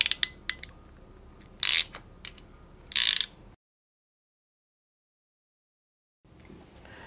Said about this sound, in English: you put the jaws of the clamp tool to the ear of the clamp ring